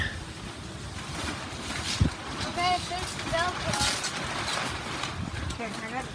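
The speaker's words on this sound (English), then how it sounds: "I hope this wind doesn't pick it up and carry it away." Wind blows across an outdoor camp canopy kitchen shelter, a steady rushing gust with microphone buffeting and a thump, under people talking nearby.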